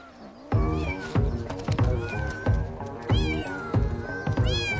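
Several domestic cats from a gang living on an island off southern Japan meow and caterwaul repeatedly, close and loud, in overlapping bursts with short gaps between calls.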